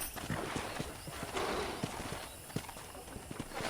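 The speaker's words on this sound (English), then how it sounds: "I picked out a fine horse for you." Horse hooves clip-clop at an uneven walking pace in the video game Red Dead Redemption, fairly faint, with a brief whinny and soft background ambience.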